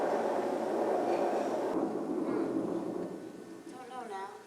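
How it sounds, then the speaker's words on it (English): A train sound effect in a high school stage production of Our Town, a broad rumbling roar that is loud at the start and gradually fades and thins away. "There's the 5:10 train for Boston."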